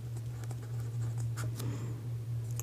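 Marker or pen strokes on a board or paper while working a class 10 maths surface-area problem, a steady run of faint scratchy taps over a constant low hum, with no talk.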